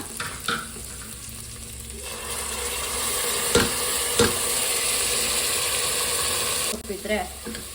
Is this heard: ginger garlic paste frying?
yes